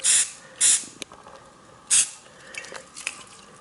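Three short, loud hisses of spray paint from a can, then quieter rustling and faint handling noises.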